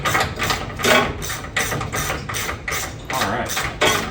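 A ratchet clicks in repeated bursts as it works a nut loose on the fuel tank strap of a Dodge D100 pickup, the nut sitting inside the frame channel, close by with no talking.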